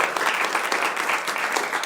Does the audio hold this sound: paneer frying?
no